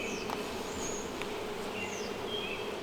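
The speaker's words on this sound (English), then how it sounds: "bees are coming and going. So that's a swarm." A honeybee swarm, a steady close buzzing drone with individual bees zipping past now and then, and no talk over it.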